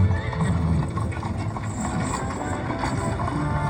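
Horses pulling covered wagons, with steady clip-clopping hooves and a whinny or two under a constant rumbling wash of wind and wagon noise.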